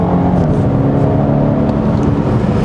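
A 2020 Mini Countryman JCW with a 306 hp engine and eight-speed automatic, driving a winding road: a steady, loud engine drone with road noise throughout, the pitch holding fairly even with no talk.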